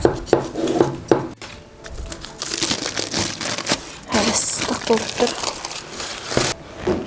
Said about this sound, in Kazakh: Пышақпен айналасын кесеміз.